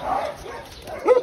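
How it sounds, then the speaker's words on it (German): An old dog at an animal shelter gives a short bark or yip near the end, close by, after a quiet stretch with faint background noise. "Du bist auch schon ein altes Hundchen,"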